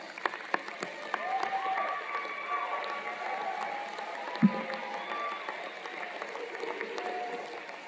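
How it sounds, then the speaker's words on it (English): Applause rises from a commencement ceremony audience, a steady, moderately distant wash of clapping that carries on for several seconds with a faint voice underneath. "offer a round of applause to all those people who supported you and helped you get to this place on this day"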